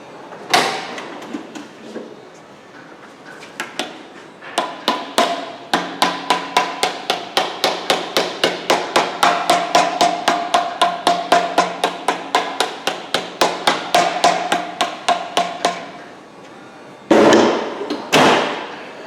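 A hammer taps an engine part down onto its dowel pins during a bottom-end rebuild of a Dodge 4.7 engine, a long run of sharp, evenly spaced metallic blows, close and loud, with a short pause and a few final heavier hits.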